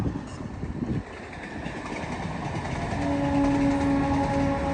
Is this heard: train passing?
yes